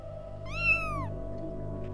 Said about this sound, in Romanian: Cred că bunica ta s-a transformat în pisică.